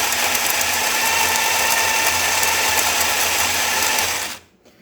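A Zacconi coffee grinder being test-run with borrowed parts from another grinder, giving a loud, steady mechanical whir close by that holds for about four seconds and then cuts off abruptly into near silence.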